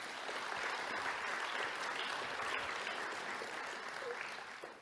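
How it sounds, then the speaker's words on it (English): An audience at a sustainability challenge demo day claps in a steady burst of applause that is fairly distant and holds evenly for several seconds before tapering slightly. "a big round of applause for that"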